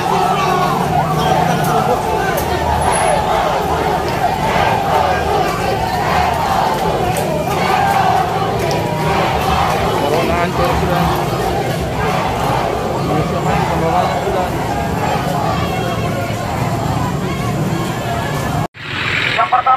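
Crowd of student protesters at a street demonstration in Ambon, a dense, loud, continuous roar of voices and shouting with traffic noise underneath, cutting off abruptly near the end.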